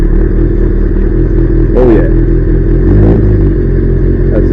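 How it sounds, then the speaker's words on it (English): A Kawasaki GPZ750 motorcycle engine with a misfire issue runs close and loud at a steady idle, with a couple of brief rev bumps and a short spoken remark over it. "we're going to start it up and give it a try"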